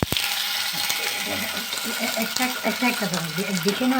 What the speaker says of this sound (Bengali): এখন মাছটা ভেজে নেব